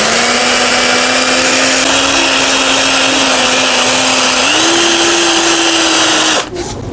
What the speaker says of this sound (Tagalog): Kisin lang po ng liha para kuminis yung shafting gamit yung portable drill.